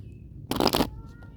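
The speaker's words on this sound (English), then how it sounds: "I'm just going to pull a couple cards real quick." A brief riffle of tarot cards being shuffled, one quick close burst of papery flutter against a quiet room background.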